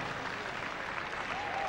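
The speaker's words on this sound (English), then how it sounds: "Huge round of applause for the Goldie." A large crowd at the Crufts 2011 dog show applauds a Golden Retriever, producing a continuous, even roar of clapping heard from within the arena.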